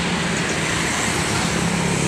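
Steady, loud roadway roar of cars and trucks streaming past on a busy Palembang highway at midday, a continuous wash of tyre and engine noise with no gaps and no voices.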